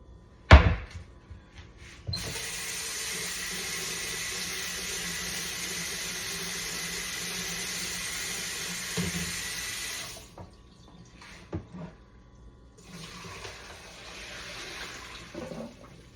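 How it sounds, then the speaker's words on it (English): Water from cooked pasta pours steadily into a kitchen sink for several seconds, preceded by a sharp knock and followed by softer trickling and clatter. "I'm gonna drain the water off"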